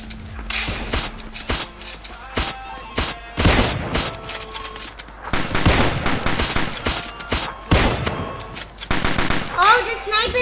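Sniper rifle gunshots ring out in a Roblox horror video game: loud, sharp shots and rapid bursts repeat throughout, with brief voices at moments near the end.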